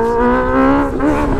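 A motorcycle engine with a worn, sticking clutch revs steadily and loudly, its harmonic drone holding near and continuous before dipping and climbing again.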